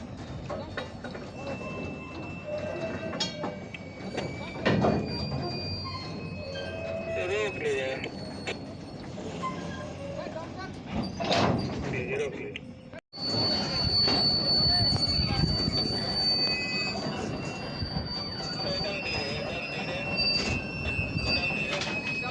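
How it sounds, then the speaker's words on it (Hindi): A freight train rolls slowly along a line between Nirmali and Ghoghardiha stations while unloading new rails, with continuous rumbling, clanking and squealing wheels throughout and voices talking over it. "तो धीरे धीरे माल ट्रेन आगे की तरफ बढ़ रही है"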